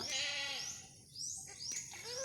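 A newborn goat kid bleats close by in a few thin, wavering cries, with quiet pauses between them and its mother nearby just after giving birth.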